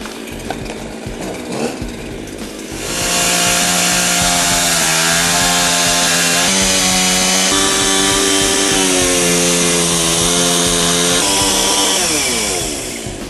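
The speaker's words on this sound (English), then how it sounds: "As you can see, the chainsaw works extremely well." After some clattering, a chainsaw roars to life and cuts steadily through a hurricane window, its engine pitch shifting up and down under load for about ten seconds.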